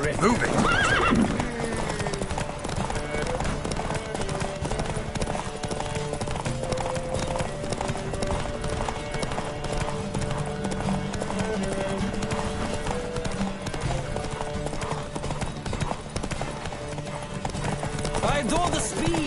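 Horse hooves clip-clop at a steady galloping rhythm during a race in The Witcher 3, with neighs and whinnies, continuous game music, and a voice shouting over the pounding hoofbeats.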